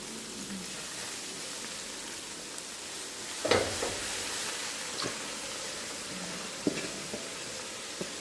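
Chopped vegetables hit hot oil in a pan while a Jamaican callaloo breakfast is cooked, giving a steady, even sizzle with a few light clinks and stirring taps over it.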